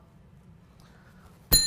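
A small bell struck once during a card trick, a sharp bright ding near the end that rings on over a quiet room.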